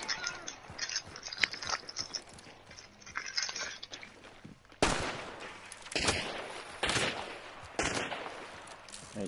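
Gunshots in Hunt: Showdown ring out as several sharp, separate blasts, each followed by a short echoing tail, over quieter ambient game noise.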